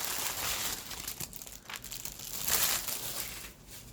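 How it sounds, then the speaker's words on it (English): Paper or plastic packaging crinkles and rustles in irregular bursts during an unboxing, close but fairly quiet, with no voices. "Sorry for the paper or plastic crinkling."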